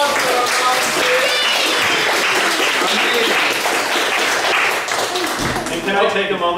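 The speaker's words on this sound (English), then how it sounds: "We have another round of applause for our volunteers." Theatre audience at the Highwood Theatre applauding volunteers, a sustained wash of loud clapping mixed with cheers and voices that carries on for several seconds.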